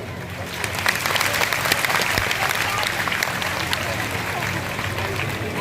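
An audience at a Raksha Diksha festival gathering breaks into sustained clapping, a dense crackle of many hands that rises quickly and holds steady for several seconds, with some voices beneath it.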